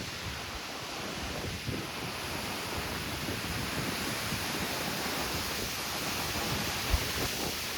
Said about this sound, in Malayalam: ഇവിടെയൊക്കെ ഏറ്റവും കൂടിയ സ്പീഡിൽ കാറ്റടിക്കുന്ന സ്ഥലമാണ്